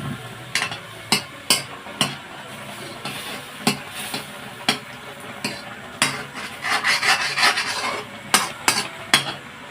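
A spoon scrapes and stirs rava cooking in milk in a pan for palkova, making repeated rasping strokes at an irregular rhythm, close and fairly loud, with a busier stretch of continuous scraping near the end.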